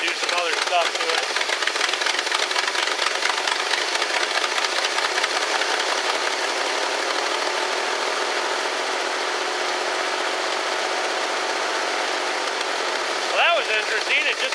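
A 1969 Lincoln Mark III engine runs steadily at idle with a fast, rattling tick from an exhaust leak at a cracked passenger-side exhaust manifold, loud and close, continuous throughout.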